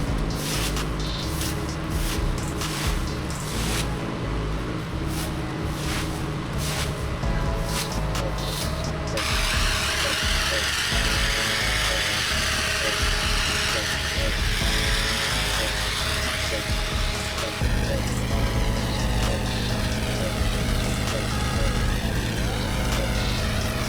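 A driveway being rinsed with a water spray, a loud, continuous hiss and rush of spray over a steady machine drone throughout, with no talk.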